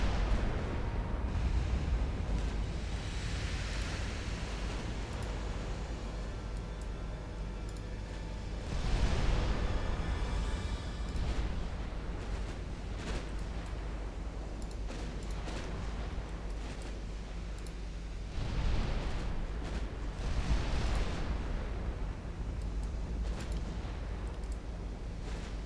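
Naval shells strike warships in the naval battle game Ultimate Admiral Dreadnoughts, with a few heavy booming impacts spaced through a constant low rumble of battle ambience.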